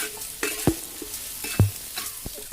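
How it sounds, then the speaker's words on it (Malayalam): Chopped red shallots fry in a pan under a steady soft sizzle, with a spoon giving several distinct scraping, clacking stirs close by. "അരിഞ്ഞു വെച്ച ചുവന്നുള്ളി കൂടി ചേർക്കുക. നന്നായി ഒന്ന് സെറ്റാക്കി ഇളക്കുക."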